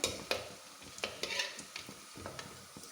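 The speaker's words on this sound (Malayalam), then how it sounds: "ഞാൻ ബാക്കി കൂടെ ഉണ്ടാക്കട്ടെ ഇട്ട് ഇത് മൂത്ത് ഞാൻ കോരി എടുക്കുവാണേ" Suhiyan snacks fry in oil as a ladle scoops them out, a faint continuous sizzle broken by several sharp clinks and scrapes of the ladle against the pan.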